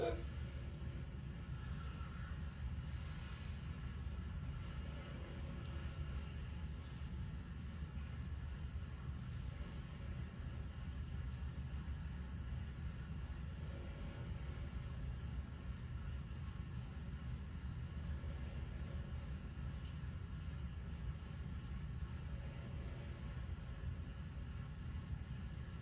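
Crickets chirp steadily at night along a street, a dense, loud pulsing trill that runs without pause over a low rumble of background noise.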